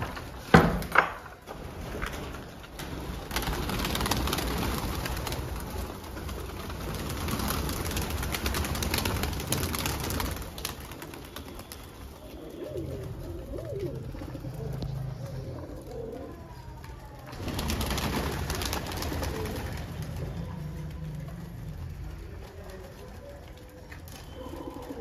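Pigeons in a loft, soft low cooing calls recurring among wooden knocks and rustling, with intermittent bursts of louder movement and brief background voice.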